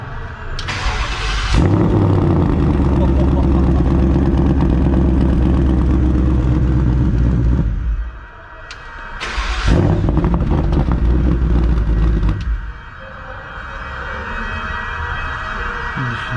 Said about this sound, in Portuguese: Lembrando que eu vou ligar o carro no modo mais quieto.